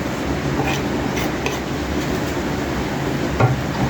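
A spoon stirs coriander through cooked beef mince in a pan, a steady scraping and soft clinking over a faint sizzle, with a sharper clink of utensil on pan near the end.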